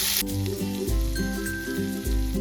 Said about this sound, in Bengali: এবার যে মাঝারি সাইজের একটা পেঁয়াজ কেটে রেখেছিলাম দিয়ে দেবো সেই পেঁয়াজ কুচি